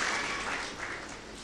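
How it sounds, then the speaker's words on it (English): Parents in the audience applaud at a school primary programme, a steady dense wash of clapping filling the short stretch at even loudness. "It requires a big round of applause"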